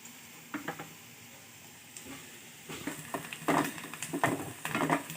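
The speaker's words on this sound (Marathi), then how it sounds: "आता कांदा आपला भाजलाय" Onion frying in a pan over medium heat for paneer masala, a soft crackling sizzle that builds in the second half with scraping stirs, close by and with no talking.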